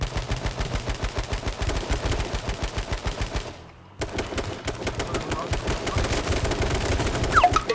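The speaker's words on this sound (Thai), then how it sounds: "ยิงเลยพี่ยิงเลยยิงเลย" Rapid automatic gunfire in the H1Z1 video game, loud repeated bursts of shots in a fast rhythm with a brief pause midway, mixed with excited voices.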